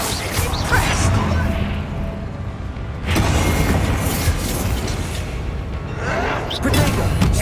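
A Bombarda spell explodes during a duel in the Hogwarts Legacy video game, with loud booming blasts and crashing impacts recurring across the stretch, mixed with character gasps and vocal effort sounds.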